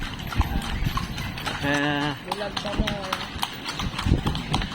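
A carriage horse's hooves clip-clop steadily on a street in Vigan, Ilocos Sur, near Calle Crisologo, in an even trotting rhythm under ongoing conversation, with a brief whinny-like tonal call in the middle.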